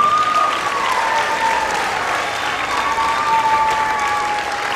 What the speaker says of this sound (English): Another round of applause for Matt Birk